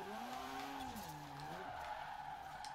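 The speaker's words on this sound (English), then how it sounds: "now we've got a bit of a drift car. It sounds the part, it looks the part, and it can slide," Mazda RX7 Spirit drifting in Forza Horizon 4, a rotary engine note bending up and down as the tires skid and squeal, moderately faint and without talk.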